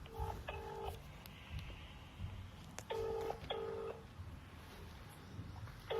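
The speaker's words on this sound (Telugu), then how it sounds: "అమ్మకు ఫోన్ చేయాలి, నీకు నెంబర్ ఇస్తాను, నువ్వే చేయి" A phone number being dialed for a call, sharp paired touch-tone beeps in short bursts with pauses between, fairly quiet against a low background hum, no talk.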